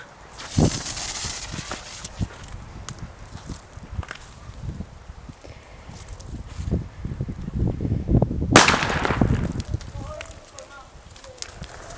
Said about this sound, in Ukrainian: Зараз ми спробуємо протестувати старий зразок гранати.